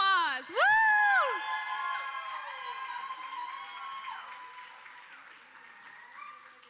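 Audience applauding and cheering for a volunteer at a fundraiser event, a sustained crowd of clapping hands with a loud whoop near the start and voices talking and shouting over the ovation.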